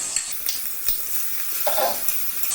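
Garlic, ginger and green chili frying in ghee and oil for a fried chicken biriyani, giving a steady close hiss of sizzling with light stirring scrapes and no talk.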